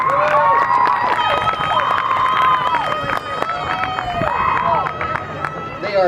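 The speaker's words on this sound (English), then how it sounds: "Give them a big round of applause, everybody." Audience at a comedy hypnosis show during an outdoor harvest festival cheers and applauds loudly and steadily for about six seconds, with shouting voices and whoops rising over a dense crowd roar.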